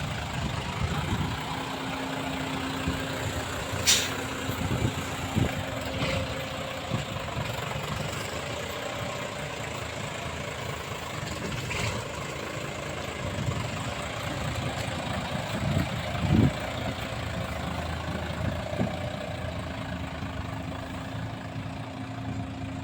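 An Isuzu 210 Euro 2 six-wheel dump truck idles steadily with a low, even diesel rumble, near and constant, with a few faint knocks and clicks over the drone and no talking.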